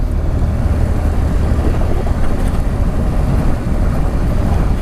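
Riding a BMW R 1200 GS Rallye motorcycle in enduro mode, with a steady, loud broadband roar dominated by wind buffeting across the microphone and the engine's rumble underneath, continuous throughout.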